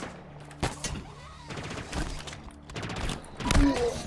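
Scattered gunfire bursts in the video game Halo Infinite, several short separate volleys with pauses between, heard under someone talking.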